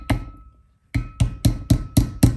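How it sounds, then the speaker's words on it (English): A hammer gently taps a brake seal onto the hub of a 1941 Chevy during a disc brake upgrade: one strike, a pause, then five evenly spaced close, sharp metallic taps. "You're going to take your hammer and just gently"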